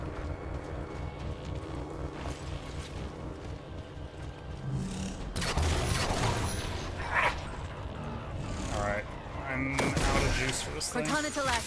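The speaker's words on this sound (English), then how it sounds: "It's a shotgun." Shotgun blasts in Halo 4, a few loud booming shots standing out over busy game sound and music, with people talking through it.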